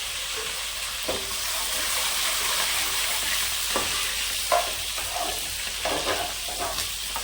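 Curry leaves and green chillies frying in hot oil give a continuous bright sizzle and crackle close by, with occasional stirring scrapes and pops toward the end.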